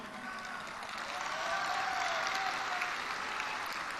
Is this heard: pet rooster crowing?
no